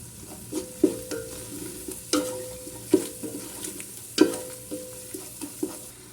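A spoon scrapes and clacks through a chicken kabsa mixture in a pressure cooker, a series of sharp knocks and wet stirring sounds at an irregular rhythm, close and fairly quiet with a faint sizzle beneath.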